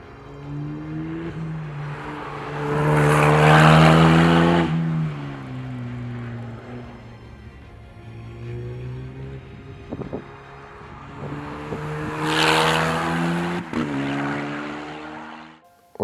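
A Dallara race car on the Anneau du Rhin circuit, its engine note rising and falling through two strong accelerating passes that swell loud and fade, with a quieter stretch of lower engine drone between them and no talking.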